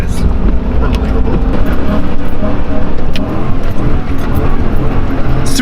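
A Ford Raptor pickup on XCOM tires drives hard with a loud, continuous, rough engine rumble and road noise, pulsing slightly throughout.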